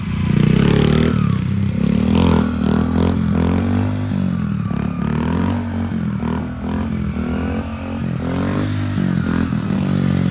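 A motorcycle with an automatic clutch is ridden while the clutch slips, producing a loud, steady engine drone with wavering pitch and road rumble throughout, with no voices.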